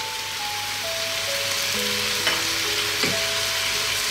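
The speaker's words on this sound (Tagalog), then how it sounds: "Ngayon po ilalagay na natin yung ating patis" Fish sauce poured into a pot of Filipino chicken pochero, setting off a steady, close sizzle and frying hiss that runs unbroken through the clip, with faint tonal hum lines beneath and no talking.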